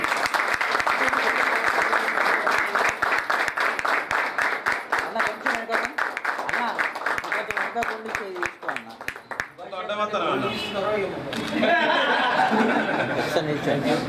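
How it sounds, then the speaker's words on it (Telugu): A crowd at a teachers' felicitation gathering claps loudly with dense, rapid hand claps, tapering near the end as chuckles and voices break through. "గట్టిగా చప్పట్లు కొట్టండి"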